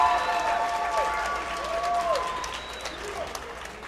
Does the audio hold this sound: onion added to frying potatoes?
no